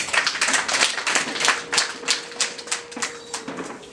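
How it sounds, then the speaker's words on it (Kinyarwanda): An audience claps in uneven bursts at a Rwandan traditional marriage ceremony, the hand claps loud and close with a faint tone lingering underneath. "babamera amashyi menshi cyane"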